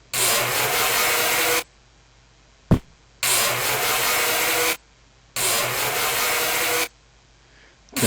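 A grinder grinding car parts such as axles in a video game, running in three loud, steady bursts of harsh whirring with silent gaps between them and one short click.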